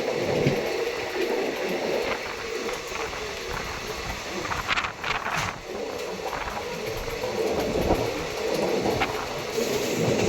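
The Bandra Terminus–Haridwar Express rolls past nearby, a steady heavy rumble with rhythmic wheel clatter and brief metallic squeals that stays loud across the whole stretch.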